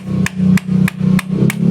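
Five sharp, evenly spaced hammer blows on a Barako 175 motorcycle clutch housing, each a ringing metallic knock about a third of a second apart over a steady low hum.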